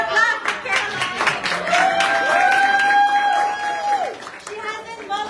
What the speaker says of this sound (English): So another clap for Caroline.